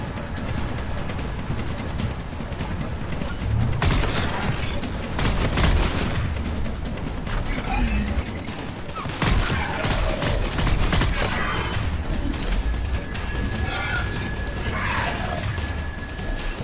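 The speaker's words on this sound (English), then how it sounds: "Commander, I've got enemy contact. Under fire." Gunfire in a Mass Effect firefight, bursts of rapid automatic shots and heavy impacts repeating over many seconds, loud and dense with mechanical clanks and booms in between.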